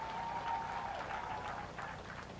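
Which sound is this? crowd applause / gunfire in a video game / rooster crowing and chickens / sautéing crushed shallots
crowd applause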